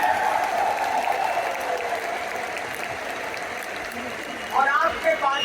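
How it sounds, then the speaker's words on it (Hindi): An audience at a 23rd anniversary event claps loudly and continuously, a dense wash of applause that swells again near the end, with some voices mixed in. "आप जोरदार तालियां बता के अपना एक्साइटमेंट दिखा सकते हैं"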